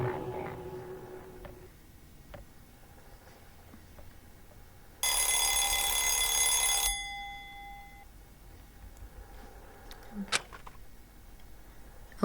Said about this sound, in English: Opened my eyes at the sound of the alarm.